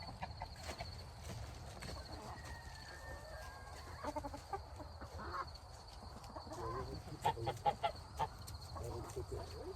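Backyard chickens clucking and murmuring while being fed scratch grain outdoors, soft intermittent calls at close to moderate distance over a steady background hum, with occasional louder clucks.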